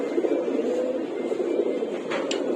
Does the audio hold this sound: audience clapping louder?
no